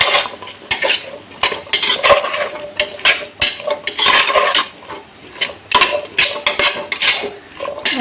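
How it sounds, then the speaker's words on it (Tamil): A spoon stirring chickpeas into chana pulao in a metal pot, close and loud, with repeated rhythmic scrapes and clatters against the pot and a faint sizzle beneath, with no talking. "சன்னாவை சேர்த்துட்றேன். அதை கொஞ்சம் நல்லா மிக்ஸ் பண்ணிக்கலாம்."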